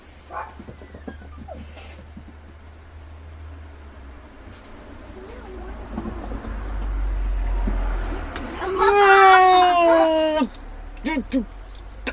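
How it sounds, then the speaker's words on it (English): A house cat lets out a drawn-out, falling meow near the end, preceded by quieter rustling and low background hum in an indoor room. "Sorry guys, that was actually the cat again."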